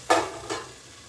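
Marinated chicken dropped into a hot pan for chicken pulao, two quick bursts of sizzling a moment apart that settle into a softer, steady frying hiss.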